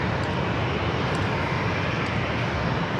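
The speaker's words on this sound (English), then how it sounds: "Southwest Airlines Flight 781 heading to San Jose, California" A Southwest Airlines Boeing 737 jet airliner at San Diego airport, a loud, steady broadband engine roar that holds without break, as if passing close by on the runway.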